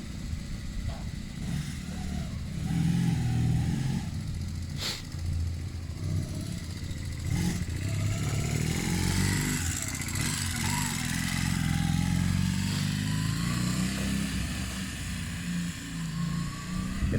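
Kawasaki ER5 motorcycle being ridden around after a rear brake adjustment, its engine droning steadily and fairly close for the whole stretch, with some clatter and shifts in pitch as it moves.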